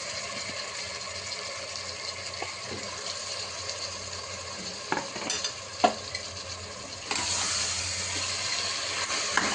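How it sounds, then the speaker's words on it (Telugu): Skinless chicken fries on high heat in a spiced tempering for Hyderabadi haleem, a steady sizzle under scraping, clicking stirs of a spoon against the pan, growing louder near the end, with no voices. "ఒక 3 నిమిషాల పాటు హైలోనే స్టవ్ పెట్టుకొనేసి మనం ఫ్రై చేసుకోవాలి"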